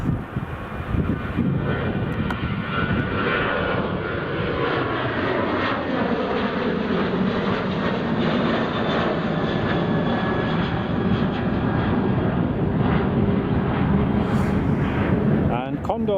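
Loud, sustained roar of a Ryanair jet airliner taking off at Edinburgh Airport, a broad rumbling engine wash heard from a distance that holds steady across the whole span, with people talking over it.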